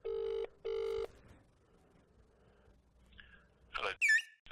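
Two long electronic telephone ring bursts at the start of a recorded sales cold call, loud and close. A quieter pause and a few faint chirps follow.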